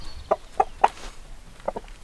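Domestic chickens clucking close by in a short series of separate, sharp clucks spaced irregularly over quiet background, with no talk.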